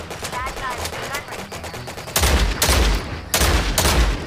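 Shotgun fire in the mobile battle royale Omega Legends, several loud, booming blasts with short gaps between them in the second half, following some busier in-game noise and a voice talking.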